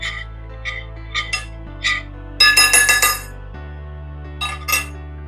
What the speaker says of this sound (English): Now just mixing my marinade.